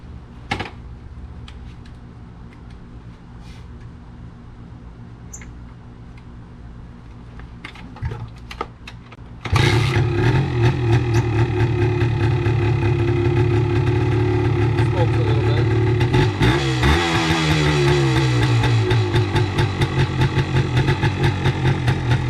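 A vintage enduro motorcycle: after a quiet stretch with a few faint clicks, the engine kicks into life about halfway through and settles into a loud, steady idle that stays close and continuous, with one brief blip of revs near the end.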